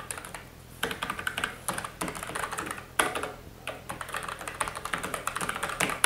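Someone types on a Logitech mechanical keyboard connected to an iPad. Quick, irregular clicky keystrokes sound close and moderately quiet, with no speech.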